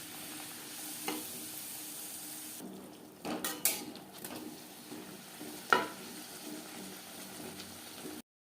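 Refined oil heated in a pan for a potato and pea curry, giving a soft continuous sizzle with occasional clinks and stirring knocks, close and fairly quiet, ending abruptly.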